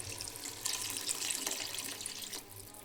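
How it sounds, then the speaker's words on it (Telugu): Tap water pouring into a kitchen vessel, measured out for cooking rice with vegetables, a steady close splashing gush without talk over it. "ఈ పాత్రలో కొలిచి 4 వాటర్ ఫిల్ చేసుకొని ఇలా ఇందులో పోసుకోవాలి"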